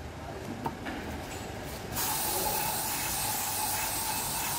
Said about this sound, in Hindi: थोड़ा स्प्रे मार के वो एयर प्रेशर मार के लाओ